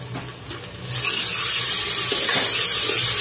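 Ginger garlic paste hitting a hot frying pan, bursting into a loud, bright sizzle that swells after a brief quieter moment and then holds steady.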